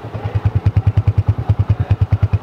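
An old Honda 125 motorcycle idles close by, its single-cylinder engine putting out a loud, even chain of rapid thumping beats at a steady rhythm.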